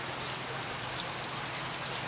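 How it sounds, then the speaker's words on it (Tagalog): Heavy, unbroken rain pours down at the Santo Domingo public market, a dense, loud, steady roar of falling water with no pauses and no voices. "Wala talagang tigil ang ulan."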